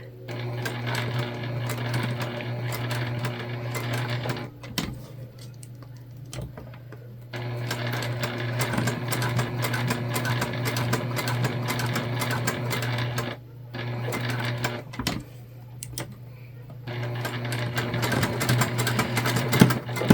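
A Juki sewing machine stitches the ends of a structured bag panel together in repeated close bursts of rapid mechanical whirring, broken by short pauses.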